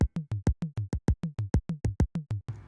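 A dry electronic drum percussion loop plays as a fast, even run of tight, punchy hits, about fourteen in under three seconds, close and clean with no reverb and no voices.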